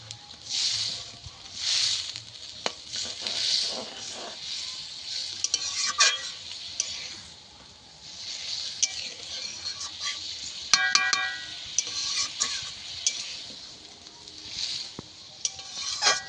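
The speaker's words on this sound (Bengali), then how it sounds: "এবার হালকা হাতে আমি এটা নেড়ে দেবো।" Magur and singi fish curry with added water being stirred gently in a pan, soft scraping and swishing strokes repeating over a low bubbling simmer, no voices.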